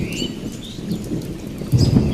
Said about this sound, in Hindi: अरे ये क्या? इतनी तेज बारिश?